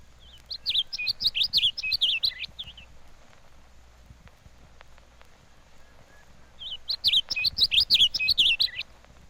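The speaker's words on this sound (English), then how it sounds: "the fantail warbler sings from a low perch" A fantail warbler on a rocky, wooded slope in eastern Mexico sings from a low perch, giving two quick bursts of high, jumbled warbling several seconds apart, clear against a quiet background.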